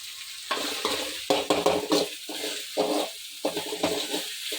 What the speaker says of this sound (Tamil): நல்லா வதக்கி விடணும். நல்லா வதக்கி ஸ்மாஷ் ஆகணும் ஒன்றோட ஒன்று, அந்த அளவுக்கு வதக்கி விடணும்.